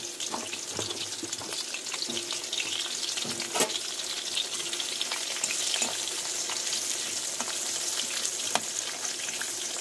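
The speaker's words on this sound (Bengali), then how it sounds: "তাই কিন্তু আমি অল্প অল্প একদম হলুদ দিয়ে কিন্তু এইভাবে সুন্দর করে আমি পটলগুলোকে ভেজে নেবো।" Pieces of pointed gourd coated in turmeric fry in oil with a continuous, moderately loud crackling sizzle that runs evenly throughout, with occasional sharper pops and faint clinks.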